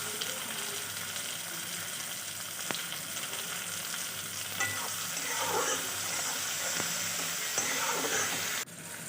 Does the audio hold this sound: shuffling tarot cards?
no